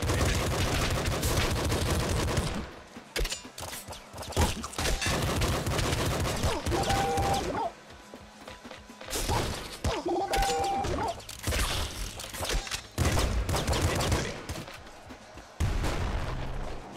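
A triple-shot weapon fires in Nuclear Throne in loud, rapid bursts of gunfire broken by short pauses and crashing impacts, over game noise.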